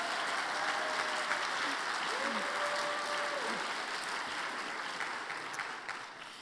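Audience applause fills the hall at an opening convocation of the academic year at Goshen College, steady and sustained before tapering off slightly at the end, with faint voices and a brief tone audible beneath.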